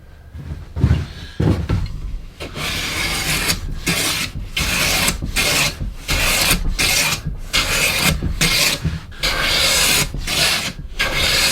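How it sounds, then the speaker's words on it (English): A hand plane takes repeated rasping strokes along a wooden guitar fretboard for a Westone X390 Pantera tribute build, roughly a dozen steady back-and-forth passes close up, with no voices. "glue so I can use my plane to get it down to about 7 millimeters thick"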